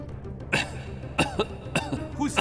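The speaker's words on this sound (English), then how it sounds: "Who's coughing?" Several short, sharp coughs ring out at irregular intervals, fairly close, with a little quiet room noise between them.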